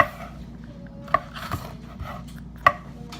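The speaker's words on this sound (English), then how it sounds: "I cut it in little thin strips." Knife slicing food into thin strips on a cutting board for vegan soup, a few sharp chopping knocks spaced irregularly over soft rubbing and scraping, close and fairly quiet.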